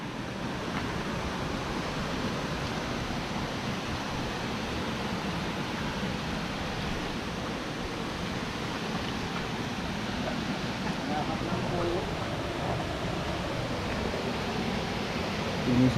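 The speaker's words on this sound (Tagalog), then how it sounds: "Humahangin na." Wind blows outdoors at Hagdan Hagdang Paraiso as a continuous broad rushing roar with buffeting on the microphone, steady and loud for the whole stretch.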